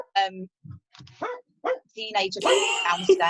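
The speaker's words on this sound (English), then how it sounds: "Excuse me, sorry about my dogs." Domestic dogs bark and yip in short bursts in a home, close to the microphone and mixed with a person speaking over them.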